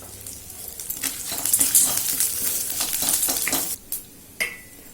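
Mustard seeds, dried red chillies and curry leaves crackle and sizzle in two spoons of hot oil for a raw banana curry, with close, busy spattering and occasional stirring clinks that briefly drop off toward the end.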